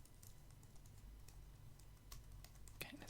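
Fingertips typing lightly on a computer keyboard in an ASMR microphone test, soft scattered clicks close to the mic, faint and unhurried, with a slightly firmer tap near the end.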